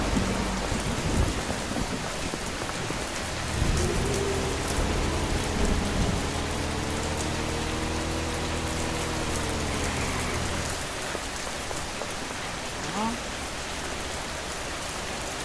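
Steady rain falls in the video game Schedule 1, a constant hiss close up with a low rumble, while a voice runs through the middle stretch.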